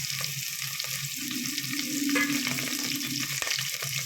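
Green chilli and curry leaves sautéing in hot oil with onion for a mutton kulambu, a steady close sizzle with soft stirring scrapes and no voices.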